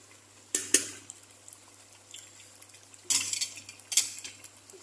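Egg being stirred into a meat biryani in a pan, a few sharp utensil clinks and scrapes against the pot separated by quieter gaps, with a faint sizzle underneath.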